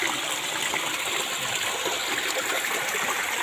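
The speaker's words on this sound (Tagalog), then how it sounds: "Mini waterfalls." A small waterfall pours into a pool at a rural site, a steady rushing and splashing stream heard close and loud throughout, with no voices.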